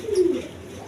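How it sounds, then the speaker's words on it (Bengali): A single brief, low coo comes from a red crested Gorra pigeon, heard close and alone with no talking over it. "এটা হলো মূলত গররা কবুতর, রেড কালার গররা।"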